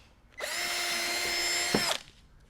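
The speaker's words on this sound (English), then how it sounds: "sitting here drilling into a Corvette like this" A power drill drilling into a C5 Corvette body whirs steadily for about a second and a half at a high pitch, then spins down with a brief clunk.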